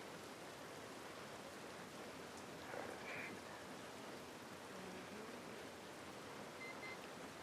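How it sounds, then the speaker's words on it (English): Steady rain falls through a cutscene in The Last of Us Part 1, a dense, even hiss of drops on surfaces that holds at a constant level for the whole stretch, with no voices over it. "Love the attention to detail, the rain falling off their faces."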